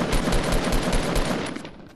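Rapid bursts of automatic gunfire in the Fortnite battle royale video game, loud and dense with sharp repeated cracks throughout, tapering off slightly near the end, with no talking.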